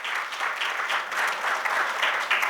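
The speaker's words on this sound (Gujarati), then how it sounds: "રાહુલભાઈ માટે તાળીઓ થઈ જાય" Audience clapping steadily at a Gujarati book launch honouring a guest, a dense, continuous wash of applause from a close crowd with no speech over it.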